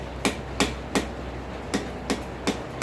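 A hammer taps lightly on rivet stock set against a hot cut while notching it, seven crisp, evenly spaced strikes over a low steady background hum.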